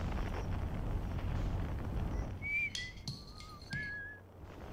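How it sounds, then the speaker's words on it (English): Whistled tones from the Outer Wilds game world, a few short rising and gliding whistles over steady wind-like ambient noise, fairly clear and not masked by talk. "Whistling. There it is."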